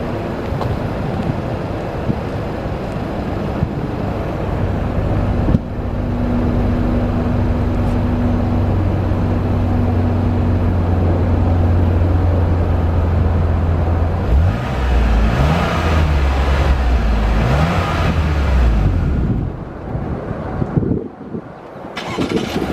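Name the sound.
SUV engine exhaust revving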